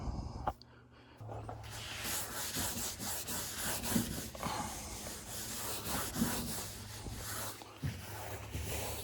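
A cloth with pre-cleaner is rubbed across the top of a Porsche 914, producing repeated close scrubbing and wiping strokes in an irregular rhythm.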